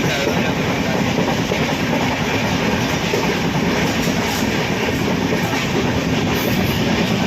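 A passenger train rolls along the rails on an overnight journey from Mahuva to Ahmedabad, its steady loud rumble and rhythmic wheel clatter continuing without pause and no voices.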